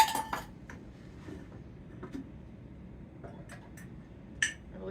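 A measuring cup clinks against dishes in a kitchen while sourdough discard bread is being made, with a few sharp ceramic and metal knocks scattered over a quiet background, the last one a bit louder.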